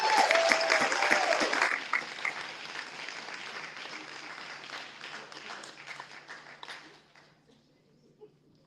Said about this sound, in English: Let's keep up the clapping and the hooting and hollering, and Ken's gonna come back up.